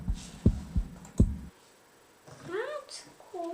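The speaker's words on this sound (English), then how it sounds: "Heartbeat." A Halloween scary heartbeat effect: four deep, hollow thumps in quick, uneven pairs, then a short gap before a voice speaks.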